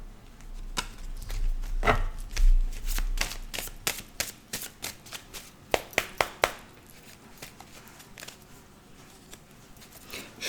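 A deck of tarot cards being shuffled by hand, a run of crisp riffling and slapping bursts that grows into sharp distinct snaps, close and fairly loud with no talking.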